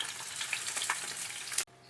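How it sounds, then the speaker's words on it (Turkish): Chicken pieces frying in hot oil in a pan, a loud continuous sizzle that cuts off abruptly near the end, leaving faint background hiss. "Tavuklarımızı da tavaya alıyoruz."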